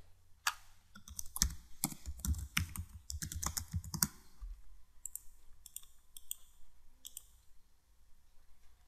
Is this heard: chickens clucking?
no